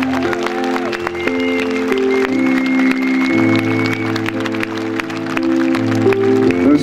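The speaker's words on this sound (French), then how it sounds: "Messieurs, je voudrais que vous applaudissiez très très très très très très fort." Applause from a concert audience at the 2022 Viking Tour show in Barentin, a steady loud wash of clapping that runs throughout, mixed with sustained band notes ringing underneath.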